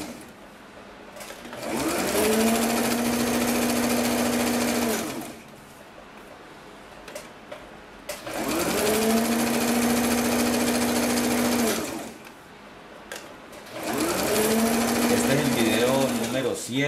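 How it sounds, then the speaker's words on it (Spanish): Sewing machine stitching zigzag seams on fabric for girls' and women's long boxer underwear, three steady bursts of rapid whirring each lasting several seconds, separated by brief pauses, close and loud. "Doblo, halo la tela y coso ayudando de atrás."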